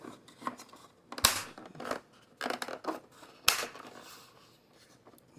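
A replacement LCD screen on a Mercedes-Benz C-Class W203 snapping into its plastic housing, with sharp individual clicks and snaps and soft scraping of trim between them, up close.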